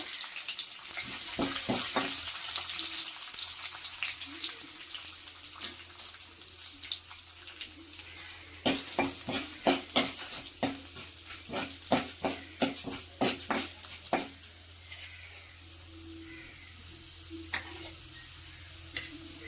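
Chana dal and urad dal fry in oil in a pan until golden brown for a Telugu yogurt curry, giving a steady sizzling hiss broken by clusters of sharp spoon-stirring clicks and scrapes that fade near the end.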